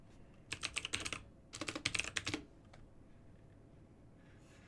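Two quick bursts of typing on an inexpensive entry-level mechanical keyboard with switchable keys, fast clacky keystrokes close up, then quiet room tone.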